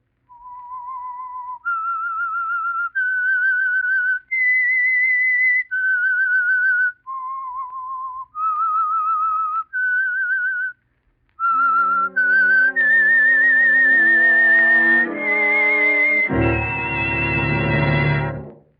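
A lone whistler plays a slow, eerie melody of sustained notes, then an orchestra swells in underneath and builds to a loud, full chord.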